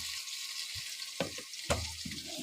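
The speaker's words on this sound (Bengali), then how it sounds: "এই যে পোস্ত পোস্ত আর কাঁচা লঙ্কা দুটো, এটার মধ্যে জল দেব।" Green chillies and poppy seed paste sizzle in hot oil after fried pointed gourd, with water splashed in as a few sharp bursts interrupt a steady frying hiss.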